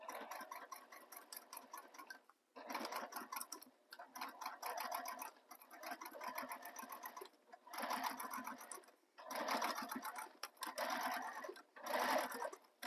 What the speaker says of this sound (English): we're top stitching across that whole edge where my red is